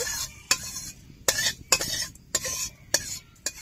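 Rice being fried until lightly browned for khichuri, stirred in a pan with a utensil that clinks and scrapes sharply every half second or so over a soft sizzle, close and without speech.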